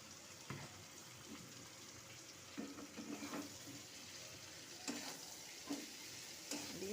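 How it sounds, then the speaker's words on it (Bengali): Bread pieces being stirred in a pan for bread pulao, quiet sizzling with soft scraping strokes and occasional clinks at irregular intervals, no voices. "এটা দিয়ে আমি ভালো করে নাড়িয়ে নিচ্ছি"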